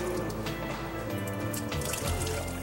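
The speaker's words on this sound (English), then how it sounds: "now you got to try and tip this down and drain it." Used engine oil draining and dripping from a car's oil pan in an auto service garage, a steady close liquid trickle with scattered drips running throughout.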